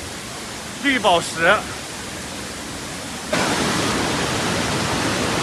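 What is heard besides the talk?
Yuntai Mountain waterfall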